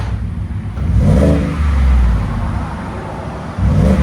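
A 2018 Ford F-150 with a 5.0L Coyote V8 and Borla Sportsman exhaust revs in a few deep, close swells over a steady low idle rumble, fairly subdued in tone, with no talking.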